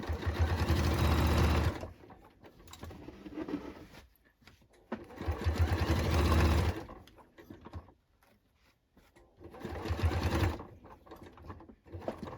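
A sewing machine stitches a denim jacket seam in three long, loud bursts of fast mechanical whirring, separated by quieter handling noises and pauses.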